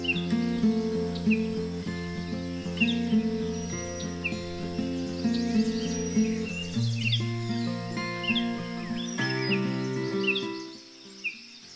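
Birds singing in Tilari forest, a wildlife sanctuary, with many overlapping calls and tonal whistles layered continuously, fairly close and clear, with faint insect buzzing beneath.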